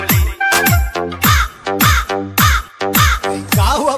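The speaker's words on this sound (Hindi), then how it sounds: "अच्छा, कौवे का आवाज आ रहा है भाई।" Repeated loud crow caws close by, about seven harsh calls in a steady rhythm with short pauses between them.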